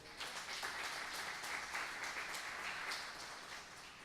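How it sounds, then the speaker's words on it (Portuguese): A church congregation claps together in steady, sustained applause that sounds moderately distant and fills the room, with no clear talk over it. "Você pode aplaudir ao Senhor?"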